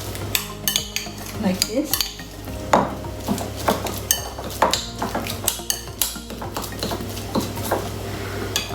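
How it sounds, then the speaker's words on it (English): A spoon mixes garlic butter and chili flakes in a bowl, giving repeated close clinks and scraping strokes in an uneven rhythm, with a brief spoken remark. "Half of teaspoon chili flakes, and mix it well"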